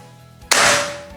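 A single sharp, loud crack from a Ruger Morgan A1 air rifle on a long-range performance test, bursting out of quiet background and decaying over about half a second.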